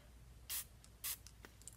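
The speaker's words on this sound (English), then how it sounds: "you can use your setting spray, whatever spray you're going to use. I'm just going to use a little bit of my Smashbox," Two short bursts of Smashbox setting spray from a travel-size bottle, misted close during a makeup routine, each a sharp hissing puff about half a second apart with faint handling noises after.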